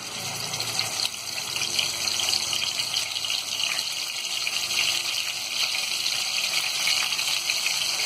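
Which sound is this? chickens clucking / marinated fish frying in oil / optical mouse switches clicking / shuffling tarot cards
marinated fish frying in oil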